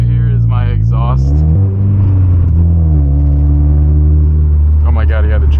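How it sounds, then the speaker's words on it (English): Car exhaust droning and vibrating while driving through a neighborhood after new motor mounts were fitted, a loud, steady low rumble with a shifting engine tone, heard from inside the cabin under a person talking. "that vibrating that you hear is my exhaust"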